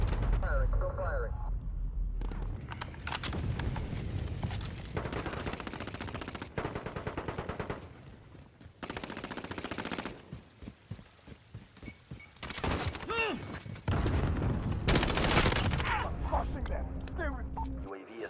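Rapid automatic gunfire from an AN-94 rifle in Call of Duty Modern Warfare, loud, sustained bursts broken by short pauses, with radio-style voices talking over the shooting.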